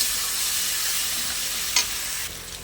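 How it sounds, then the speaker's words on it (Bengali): Garlic paste hits a pan of onions and chillies already fried deep red, setting off a loud, steady sizzle with stirring and one brief sharper crackle near the end. "এবার আমরা রসুন দিয়ে দেবো। দিয়ে দিচ্ছি রসুন পেস্ট করা রসুন।"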